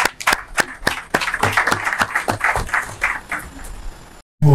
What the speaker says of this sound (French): On va donner l'applaudissement, s'il vous plaît